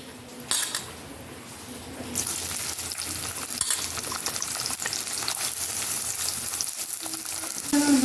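Chopped onion hits hot coconut oil in a pan and breaks into a loud, steady sizzle that carries on throughout, with a few utensil clinks and stirring scrapes close by.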